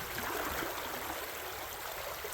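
Shallow creek water in Perryville, Missouri, flows in a steady, close, rushing wash as someone wades through it, with no voices over the continuous stream.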